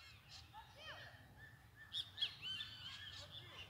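Birds sing in a grove with pitanga, mulberry and guava fruit trees, several short chirps and calls rising near the end, fairly faint, while a person speaks softly underneath.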